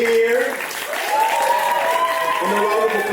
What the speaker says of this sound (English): A round of applause for yourself for being here.